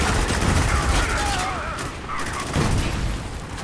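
Gunfire and explosions from the video game Spec Ops The Line fill the clip, with a dense, loud barrage of shots and booms that runs throughout, while players talk over it.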